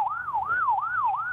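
Ambulance siren at the scene of a train collision, a wailing tone rising and falling in a steady repeating cycle, clear and moderately close with no talking.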